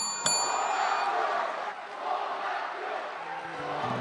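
A crowd at a Busan presidential primary campaign rally claps and cheers after a candidate's speech, a sustained, moderately distant wash of applause and voices with a bright bell-like ding near the start.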